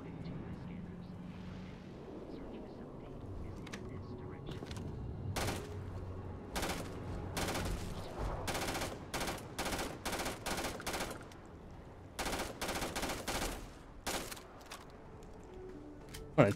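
Rapid bursts of gunfire from a gun in the space game Starfield crack out in quick repeated volleys over a low ambient rumble, at moderate loudness with short gaps between bursts.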